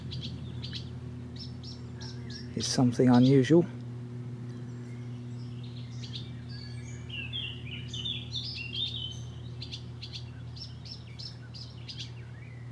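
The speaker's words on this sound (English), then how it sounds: "And that bird in the background there" An unidentified bird calling near a lake on a countryside walk, with repeated short chirping phrases at moderate distance, set against a steady low hum and a brief stretch of someone talking.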